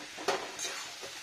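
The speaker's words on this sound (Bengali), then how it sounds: "কন্টিনিউ ঘোরাতে থাকবো, ভাজা ভাজা হয়ে যাবে, তখন হয়ে যাবে সবজিটা।" Vegetable pieces of cabbage and potato are stirred and tossed in a frying pan with little oil, giving a soft scraping and faint sizzle with a brief louder clatter of the spoon against the pan.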